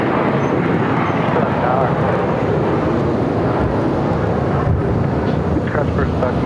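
American Airlines airliner taking off from runway 7 left at Phoenix Sky Harbor, a loud, steady broadband engine roar throughout, with faint voices underneath.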